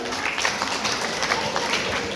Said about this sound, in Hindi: तालियां बजाइए सब लोग